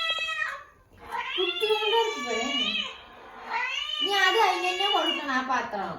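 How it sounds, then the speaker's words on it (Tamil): A small kitten meows repeatedly in a home, a string of loud, close, high plaintive cries in two long drawn-out bursts with a short pause between. "கடவுள் மாதிரி எங்க வீட்டுக்கு ஒரு பூனை வந்திருக்கு"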